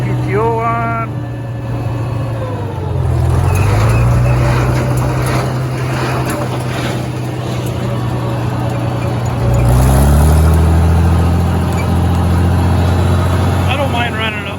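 An IH 706 tractor idles and rumbles with its PTO engaged to drive a New Holland 273 hay baler, the engine note rising twice as it revs, loud and close, with someone talking over it at times.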